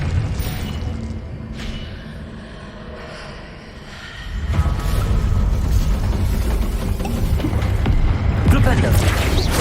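A Confringo blasting spell goes off in Hogwarts Legacy, a deep rumbling explosion swelling midway that follows quieter combat noise and fills the rest loudly, with a voice heard under it.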